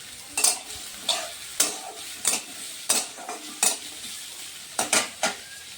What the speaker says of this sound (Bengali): এগুলোকে একটু ভেজে নেব আমি প্রথমে।